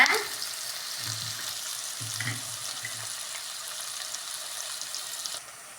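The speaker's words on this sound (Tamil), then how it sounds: "இப்போ வெங்காயம் ஆட் பண்ணிக்கலாம் வெங்காயம் வணங்குற வரைக்கும் நல்லா வணக்கி விட்டுக்கோங்க" Chopped onions sautéing in a pan for a village-style puffed rice upma, a steady close sizzle with a few stirring scrapes, fairly loud and continuous, no voices.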